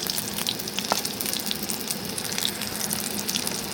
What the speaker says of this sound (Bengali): এটা কিন্তু এইভাবে আস্তে আস্তে মিডিয়াম আঁচের মধ্যে এটাকে ভেজে নিতে হবে।